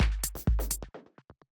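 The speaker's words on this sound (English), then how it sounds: "There are just these little like clicky things. Basically, I made these using operator." Clicky synthesized percussion built with Ableton Operator for a minimal house drum groove, a quick run of sharp clicks with low thumps at first, then shrinking to sparse faint ticks that fade out.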